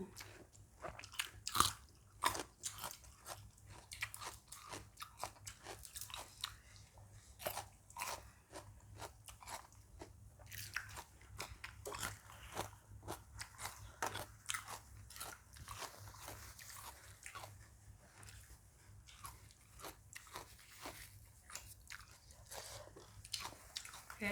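Close, steady chewing and crunching of spicy Thai rice noodles in fermented fish sauce with chillies, with continuous wet bites and crunches at an even pace and no talking.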